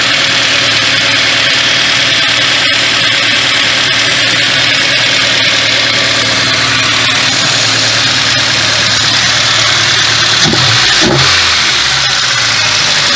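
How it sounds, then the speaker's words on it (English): An MG Rover car engine runs steadily at idle throughout, close and fairly loud, with a brief rising rev near the end before it settles back. "There's the engine that put the miles on."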